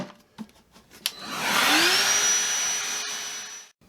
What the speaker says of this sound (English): let's run some clips of this in action. The new DeWalt Handheld will show you how powerful this little bad boy is.